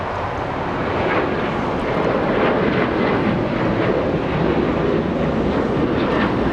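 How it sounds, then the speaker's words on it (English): A departing airliner climbs out of Los Angeles International Airport bound for Houston, Texas, its engines a broad, steady jet roar that holds loud and constant throughout with a wind-like rush. "And the departure, let's take a look, flying to Houston, Texas."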